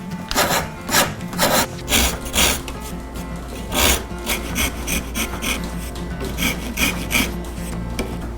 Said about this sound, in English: I'll carve it using a microplane rasp.